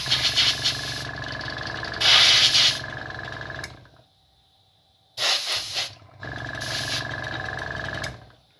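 Spray paint hisses onto a G1 Optimus Prime model in three loud, steady bursts, each lasting a couple of seconds and separated by brief silent pauses, with no voices.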